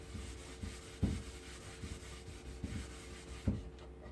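Soft rubbing strokes as wax finish is worked onto an antique wooden dresser painted with milk paint, with a few sharper scuffs and bumps at irregular intervals.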